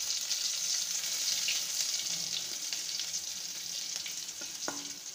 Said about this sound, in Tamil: வாணலியில் எண்ணெய் ஊற்றி கடுகு கடுகு பொரிஞ்சதுக்கப்புறம் நம்ம ஒரு வெங்காயம் ஒரு பூண்டு தட்டி வச்சுருக்கோம்,